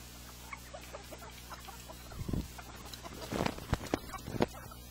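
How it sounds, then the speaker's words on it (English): Backyard chickens cluck and scratch restlessly as food is brought out, several short bursts of clucking and rustling standing out against a steady low background hum, fairly close by. "I brought the food out for the chicken, so everyone's getting a little anxious here"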